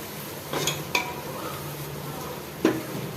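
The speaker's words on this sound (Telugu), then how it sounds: "1 కప్పు పెరుగు వేస్తున్నాను." A cup of yogurt goes into chicken biryani in a pan, with soft stirring and a low sizzle, a few sharp clinks of a utensil against the pan near and clear.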